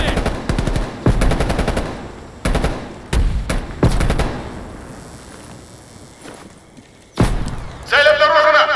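Automatic gunfire in Call of Duty: Black Ops Cold War, loud close bursts of rapid shots separated by short pauses, with a shouted voice near the end over the battle noise.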